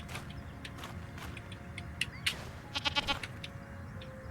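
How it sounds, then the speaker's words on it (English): A goat bleats in the video game I Am Jesus Christ, a short run of wavering cries over a steady ambient background. "Somebody's goat."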